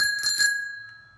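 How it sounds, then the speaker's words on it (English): A bicycle bell on a high-tech bike rings in a quick double trill, bright and close, then its metallic tone fades away alone. "Here's my bell."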